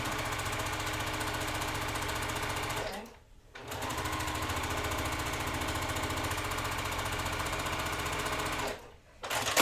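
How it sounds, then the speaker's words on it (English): A sewing machine runs steadily, stitching quilt block strips with a quarter-inch seam for a Love Letter block-of-the-month quilt, its close, even motor whir pausing briefly twice before starting again. "I'm still maintaining my 1/4 inch seam as I'm sewing all of this down"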